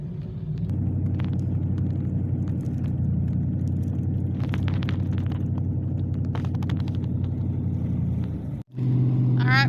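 A car climbs a snowy backroad hill in eastern Kentucky, a steady low engine rumble and road noise from inside the cabin, briefly cutting out near the end before resuming.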